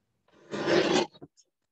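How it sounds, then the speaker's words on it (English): A paper trimmer cutting a sheet of 6x6 scrapbook paper, one short rasping slice lasting about half a second, followed by a couple of faint clicks. "I'm simply going to line up those dots in my trimmer like so"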